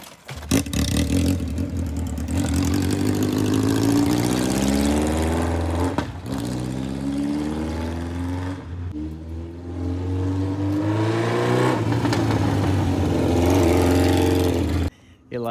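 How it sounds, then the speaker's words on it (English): A Honda CB750 cafe racer motorcycle with its exhaust fitted, the engine running close by and revved repeatedly, the pitch rising and falling in long swells with brief dips as the throttle closes. "Got it started. Got the exhaust on."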